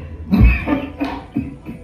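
A person with a fever and a heavy cough coughs several times in quick succession, close by, in short harsh bursts.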